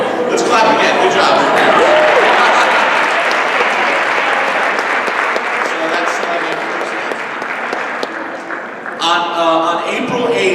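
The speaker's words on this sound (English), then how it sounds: "let's clap again" Audience applause fills a board of education meeting, a sustained wash of many hands clapping at steady loudness, with voices talking over it near the start and again at the end.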